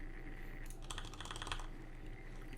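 Rapid clicking of computer keyboard keys while playing Black Desert Online, a brief flurry of close, crisp taps over a steady background hum.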